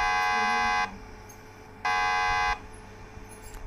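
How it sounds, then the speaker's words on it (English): A wrong-way warning buzzer in a bus simulator game sounds as two loud, steady electronic tones, about one second and under a second long, separated by a short quiet gap. "you can see that this wrong way buzzer is enabled"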